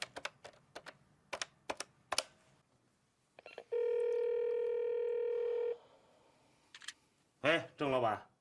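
A telephone number is dialed on a handset: several quick keypad presses, then a steady tone held for about two seconds, followed by a brief voice at the end.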